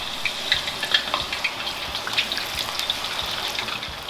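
Banana slices frying in hot oil for banana chips, a continuous close bubbling sizzle with small crackling pops scattered through it, steady and moderately loud, no talking.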